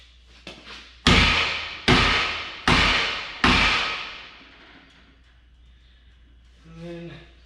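Heavy hammer blows on metal car parts during a Chevrolet Impala SS salvage build, four loud ringing strikes spaced about a second apart, each decaying slowly, followed by quieter shop noise and a faint voice.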